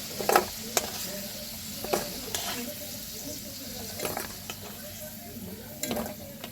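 Soybean chunks frying in oil make a soft, steady sizzle, broken by repeated sharp scrapes and clatters of a spatula stirring.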